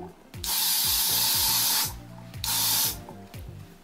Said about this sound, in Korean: 이게 떡도 잘 안 지는 스프레이라고 해서 저는 요거를 뿌려주곤 하고 있습니다.